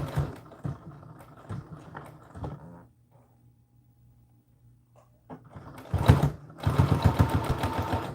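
A sewing machine stitches a narrow 1/8-inch seam near a neckline, running forward and backward in bursts of rapid mechanical chatter, pausing in near-silence midway before racing loudly again.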